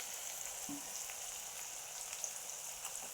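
Spices frying in a pan for green rice in a home kitchen, a soft, steady sizzle heard close and fairly quiet, with faint stirring clinks and no talk.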